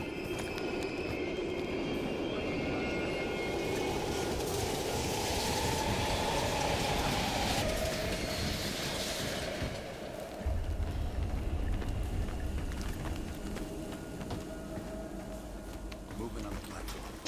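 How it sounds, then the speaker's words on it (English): A train rumbling past in the Call of Duty Black Ops campaign, a heavy rolling drone with squealing wheels and metallic rattle, building and then dropping into a deep low rumble near the end, with speech heard in places. "We can use the train to slip past."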